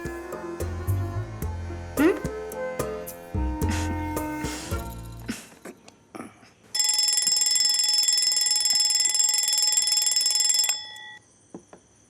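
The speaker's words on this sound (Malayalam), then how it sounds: "ഞാൻ അലാറം വയ്ക്കാം." An alarm clock rings loudly and steadily for about four seconds in a quiet room, following a stretch of dialogue and soft movement, then cuts off abruptly.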